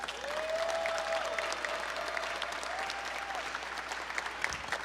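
Audience at a Transgender History Month flag raising ceremony applauds the mayor, steady sustained clapping from a crowd outdoors with a faint tonal hum over it, heard for about five seconds.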